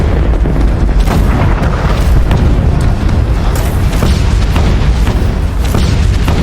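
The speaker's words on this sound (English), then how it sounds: "Everyone was surprised by the power and magnitude of the Ottoman cannon." Heavy Ottoman cannon artillery fire in a 1453 siege, a dense, continuous rumble of booming blasts layered into a loud, sustained wall of low-frequency thunder with no talking.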